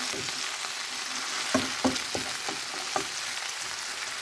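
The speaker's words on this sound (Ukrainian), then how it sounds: "Поки цибулька смажиться" Oil sizzles steadily as onions fry in beef-flavoured oil for beef bourguignon, with a few soft clicks and scrapes from stirring scattered through the hiss.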